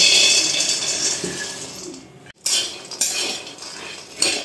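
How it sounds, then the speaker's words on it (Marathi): Peanuts tipped into a hot kadhai for dry roasting, giving loud clattering and rattling against the metal that swells in bursts and settles into a steady scraping, stirring rustle. "आता आपण त्याच्यामध्ये शेंगदाणे टाकून घेऊ"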